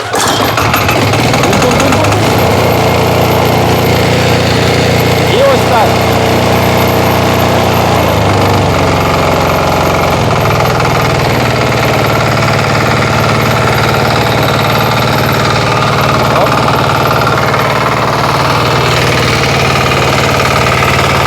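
A small diesel engine on a walk-behind tractor fires up and runs, a loud, close, steady knocking thrum that shifts pitch slightly as it settles into idle and continues throughout with no voices.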